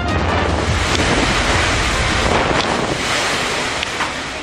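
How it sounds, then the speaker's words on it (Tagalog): Strong typhoon wind roaring through Batanes, a constant loud gusting rush with broad noise, wind buffeting the microphone throughout and no voices. "Halos wala nang makita sa paligid dahil sa lakas ng hangin na tulan sa iba't ibang bahagi ng Batanes"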